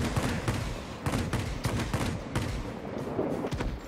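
Aircraft cannon fire from the J7W2 fighter in World of Warplanes, a burst of rapid, loud shots packed tightly together over dense background rumble, running almost continuously with brief pulses.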